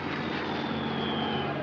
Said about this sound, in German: Ab Juli 1940 greifen deutsche Bomber militärische Ziele in Südengland an.